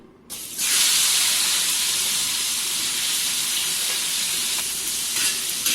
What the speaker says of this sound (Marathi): अगदी कुरकुरीत होईपर्यंत फ्राय करायचे.